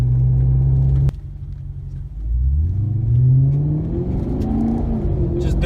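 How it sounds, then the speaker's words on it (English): A Maserati GranTurismo's exhaust roars during a quick takeoff, starting with a steady low idle rumble, then a sharp blip and a rising, swelling growl as the car accelerates, loud and close. "Just do a quick little takeoff right here. Get to listen to that exhaust."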